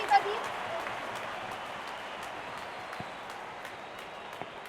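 Cricket fans at a GT vs RCB qualifier applauding a six, a steady wash of distant stadium clapping and crowd noise with a few sharper claps standing out.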